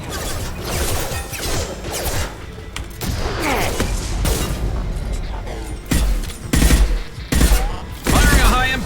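Bursts of game gunfire and heavy impact shots from Mass Effect 2 combat, loud and close, with crashing hits and voices speaking over the shooting.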